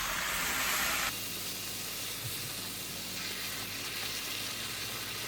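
Vegetables and chili powder stir-frying in oil for jjamppong, a steady close sizzle and hiss that spikes loudly at the start and then settles into continuous frying.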